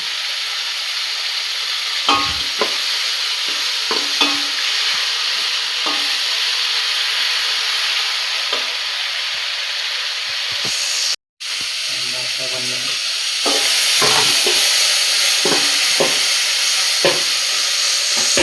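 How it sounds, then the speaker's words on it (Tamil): Vegetables for a kuzhambu sautéing in a pan, a steady sizzling hiss with intermittent scraping stirs, close by; a brief cut to silence midway, then sizzling resumes louder. "நல்லா வதக்கி அந்த பச்சை வாசனை போகிற வரைக்கும் வதக்கணும்"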